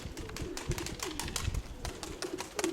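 Frightened pigeons fluttering and cooing nearby, with a hawk and a rook close by, a busy burst of wingbeats and soft calls that keeps going through the short stretch.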